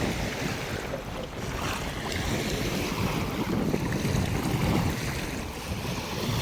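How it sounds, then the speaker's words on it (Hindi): River water surges against an eroding bank, a continuous broadband wash of waves and wind noise at close range with no speech. "यही देखिए लहर अभी टकराएगी इस पे और ये गिर जाएगा।"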